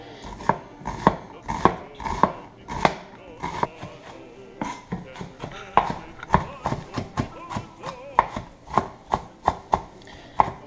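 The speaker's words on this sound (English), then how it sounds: "I'm going to chop this fine" A knife finely chops one medium-sized onion for Italian spaghetti sauce, with close, crisp cuts in an uneven steady rhythm of about two per second and no talk.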